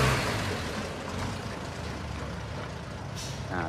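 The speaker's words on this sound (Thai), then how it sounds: "ที่ได้ยินเป็นเสียงเบรกลม" The air brake system of a six-wheel Mitsubishi Fuso water truck with a 190-horsepower engine hisses in a loud, steady rush of air, with a brief sharper burst near the end.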